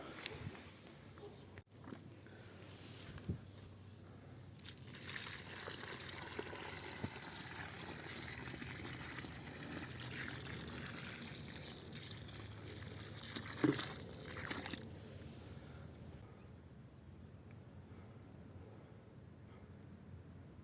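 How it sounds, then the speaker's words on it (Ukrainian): Water is poured and trickles steadily onto the soil around a newly planted young fruit tree, a soft continuous outdoor stream lasting about ten seconds, with faint talking and a few knocks around it. "Зараз заливаю водою, впитується і зверху досипаю землею і втрамбовую."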